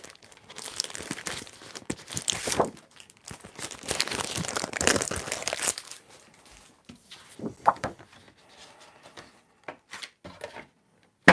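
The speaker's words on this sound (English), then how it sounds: "we're going to cut this out of this page." Paper being cut out of a page while making a shabby vintage craft tag gives close, crinkly rustling and snipping in irregular bursts, busiest early on, then sparser with short pauses.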